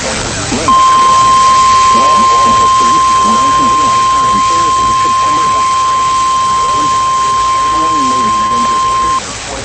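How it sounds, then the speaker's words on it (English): A public warning alarm system test tone sounds as one steady, unbroken pitch held for about eight seconds, with a voice talking underneath it. "This is a test of the public warning alarm system."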